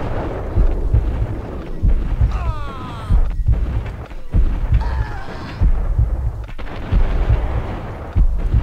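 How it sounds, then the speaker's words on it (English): Gunfire in the video game Max Payne: repeated close, punchy single shots and bursts with sharp decays, one after another over a steady game backdrop. "Come on, Max, we need headshots."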